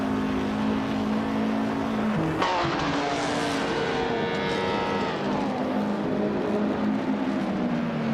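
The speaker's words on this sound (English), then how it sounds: "Ixajax is driving a Connaught Type B Dart from 1954, starting in 11th place" A 1954 Connaught Type B Dart racing car in a racing video game runs at a steady, loud engine drone with shifting pitch, surrounded by other cars and possible tyre noise throughout.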